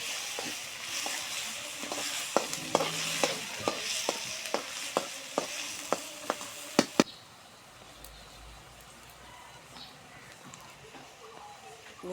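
Onion and spices fry in oil for a pangas fish curry, a broad steady sizzle with a quick run of sharp spoon knocks against the pan that stops midway, after which a quieter, duller hiss carries on.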